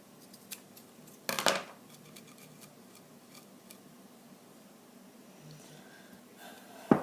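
Scissors snip through strips of duct tape: one short, sharp rasping cut comes early, and another brief snip follows at the very end, with a quiet room between.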